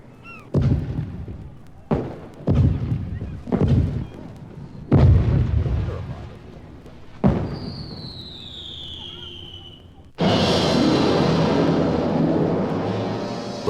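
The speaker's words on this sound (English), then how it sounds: "Captain, the rockets are ready. They may commence firing now." Congreve rockets fired at an anchored French fleet in a harbor: a string of heavy booming thuds about every second and a half, then a whooshing streak and a sustained loud roaring blast at the end.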